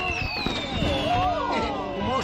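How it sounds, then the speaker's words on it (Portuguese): Cartoon explosives fire in an animated action scene against a monster in a lake, with rapid whooshes and crackling blasts mixed with whistling tones, loud and close, while voices shout over them. "Atirem meus explosivos favoritos!"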